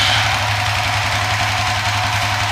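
A motorcycle engine fitted with an Apitech ECU idles steadily and loudly with a low, even rumble and no voices.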